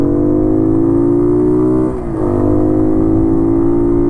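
A Honda CT70-style tribute motorcycle engine lugs in third gear with a steady, loud low drone and harmonic whine, dipping briefly midway before holding its even pitch again.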